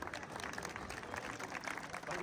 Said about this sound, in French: Vraiment, on peut vous applaudir,